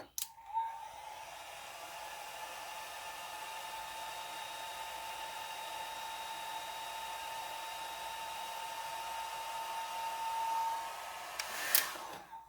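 A hair dryer blows steadily on alcohol ink art, a continuous loud whirring hum from start to finish with a click as it switches off near the end.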